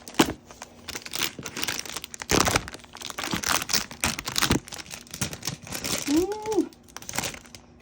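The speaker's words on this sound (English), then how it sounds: "We'll take that out of crinkly paper so it'll stop crinkling" Crinkling paper wrapping rustles in irregular bursts throughout, close by, with a brief rising squeak near the end.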